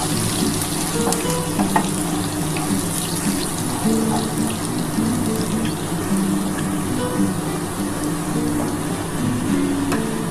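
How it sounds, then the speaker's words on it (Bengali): Crushed garlic fries in hot oil in a pan, a continuous close crackling sizzle with occasional pops and light stirring, no voices. "রসুনটা ভাজা ভাজা হয়ে গেছে"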